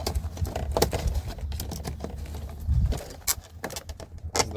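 Tin snips cut vinyl siding in a string of quick crisp snips and crackles, loud and close, in an irregular rhythm with short pauses between cuts.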